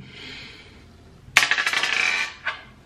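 A die tossed onto a hard surface during a food-choice game, giving a sharp clattering impact followed by a quick series of rattling bounces and one last tap as it settles, close and clear with no talking.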